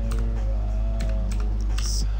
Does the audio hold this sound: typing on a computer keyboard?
yes